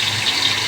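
Water poured steadily into a pot of chicken mushroom soup with broccoli, a continuous close gushing splash with a bright hissy edge and no pauses, heard alone.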